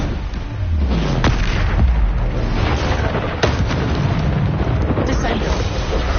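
Bombarda spell blasts burst in a Hogwarts Legacy fight, giving dense, continuous rumbling booms with sharp cracks in between, loud and close, while a voice shouts along.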